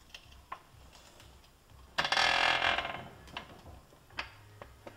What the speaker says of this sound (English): So I'm going to release the jack slowly.